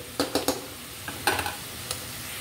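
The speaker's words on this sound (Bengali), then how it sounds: "এতটুকু পরিমাণে ভাজলে হবে, এর চেয়ে বেশি ভাজার দরকার নেই।" Jackfruit seeds frying with dried ribbonfish in a pan are stirred in short scraping bursts, several quick strokes over a low steady sizzle, with no one talking.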